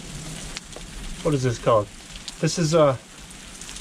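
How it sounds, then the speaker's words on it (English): Heavy rain pours down in the desert while someone shelters from it, a constant patter and hiss running beneath a person speaking in short bursts close by. "Rain's dumping down, I got some shelter here."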